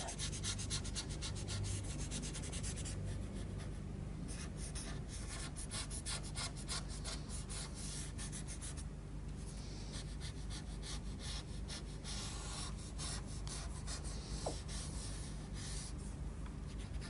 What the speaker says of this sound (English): we'll just add a little bit more shadow below the tracks, which will just blend really nicely in there